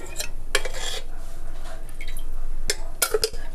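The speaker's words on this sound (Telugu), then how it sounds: "ఇప్పుడు ఆయిల్ వేసుకోవాలి" Oil goes into a kadai heating on the stove for gongura dry fish curry, with a few sharp metallic clinks and brief liquid drips over a low hum, close by.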